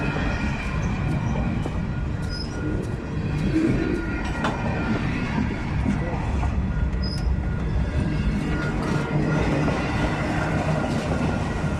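A freight train with auto rack and center beam cars rolls steadily past nearby, a continuous loud rumble with rhythmic clacking of wheels and occasional faint squeals.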